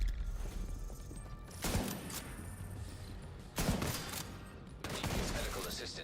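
Bursts of gunfire in an online shooter game, several loud clusters of rapid shots separated by busy background game sound.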